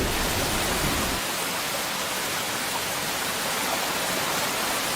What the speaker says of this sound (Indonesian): Duh, Wo, hujan deras nih.